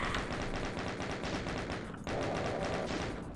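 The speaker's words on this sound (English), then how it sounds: "I'll just deal with the chain gun." Rapid chaingun fire in Doom II gameplay rattles in a dense, evenly spaced stream of shots, loud and continuous for over three seconds with only a brief break.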